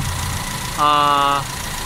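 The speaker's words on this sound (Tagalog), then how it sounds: "nasa normal operating temperature na itong aking makina" An Owner type jeep's engine idles at normal operating temperature after sitting unused for five months, a steady mid-pitched hum with a brief louder tonal whine partway through, heard close.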